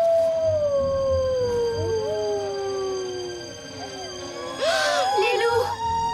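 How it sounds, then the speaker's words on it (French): Wolves howling in a cartoon scene: long, wavering howls that slide downward and overlap, with a louder burst of layered howls near the end, fairly close and prominent. "Les loups! Les loups, fichons le camp d'ici."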